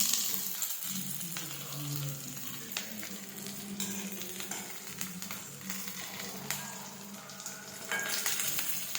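Curry leaves frying in a pan while being stirred: a steady, fairly soft sizzle with crackling and occasional spoon scrapes throughout, close by.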